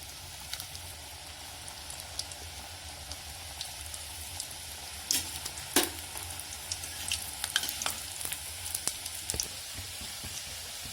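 Champakali pastries deep-frying in oil over a medium flame give a steady, close crackling sizzle, broken by a few sharper pops and bursts toward the middle and end, with no one talking.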